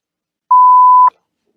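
A single steady censor bleep, one pure tone about half a second long, loud and clean against silence, on a late-night talk show.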